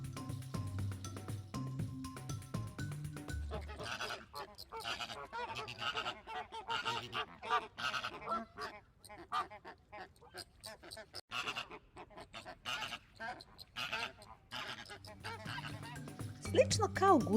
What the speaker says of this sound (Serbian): A sada flamingo.